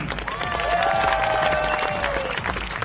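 Large crowd applauding and cheering for the Dutch recurve men's archery team at a World Championship bronze medal match in Den Bosch, steady sustained clapping and cheers with a whistle-like tone rising over it.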